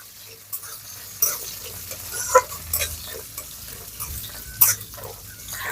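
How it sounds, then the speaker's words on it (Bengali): Curry leaves and spices are stirred lightly in a pan with a soft sizzle, while a utensil scrapes and clinks against the metal in a few sharp, scattered strokes. "এবারে সবকিছু একটু নাড়াচাড়া করে নেব তবে খুব বেশি কিন্তু ভাজবো না"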